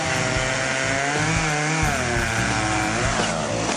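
A chainsaw roars up close, its engine revving and droning loudly without pause for a few seconds, with no voices.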